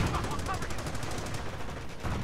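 Dense, continuous gunfire in the World War II strategy game Company of Heroes, rapid overlapping shots and bursts, loud and steady across the whole moment with no pause.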